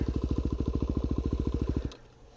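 Yamaha WR250R motorcycle engine idling with the clutch held, a close rapid even thumping that cuts out abruptly near the end, leaving quiet.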